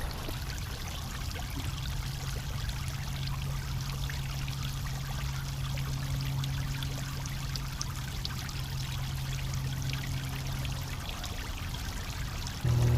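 Pond water poured by hand to prime a garden pump, a steady continuous trickling stream running throughout, close and moderately loud, with a low hum underneath.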